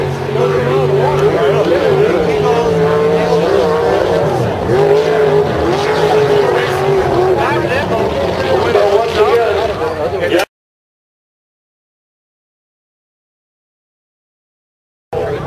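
Drag boats race down a course at a lakeside regatta, their engines a loud continuous roar rising and falling in pitch, mixed with crowd noise and an announcer's voice, before cutting to silence.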